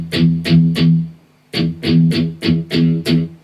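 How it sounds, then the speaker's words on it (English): Palm-muted electric guitar, with the top two strings picked in short, chunky, damped bursts: three hits, a pause, then five more in a driving rhythm, close and loud with nothing else over them. "if we pick this top 2 strings now, it'll sound like this."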